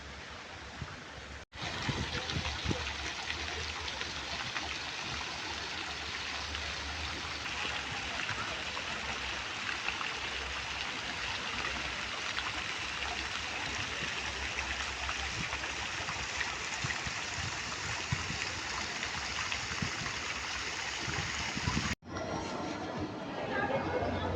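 Waterfall behind a building, a steady broadband rush of falling water, moderately loud and unbroken, with faint chatter beneath and brief cuts at the start and near the end.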